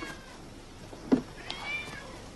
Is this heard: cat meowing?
yes